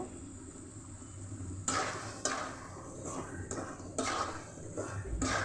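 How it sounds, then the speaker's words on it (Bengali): Liver and peas curry stirred in a pot, with several clanking scrapes of a utensil against metal at irregular intervals over a low simmering background, with no talk. "এখন আমি নেড়ে চেড়ে দিয়ে দিব"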